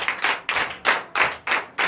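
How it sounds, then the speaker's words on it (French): Applause during a Sunday church worship service in Benin, a few loud, heavy bursts of clapping in a slow, uneven rhythm, close and resonant, with no talk over it. "que je vous demande d'applaudir très fort"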